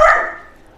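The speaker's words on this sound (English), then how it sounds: "I got puppies and mama just got home" A dog gives a single loud, close bark that fades quickly.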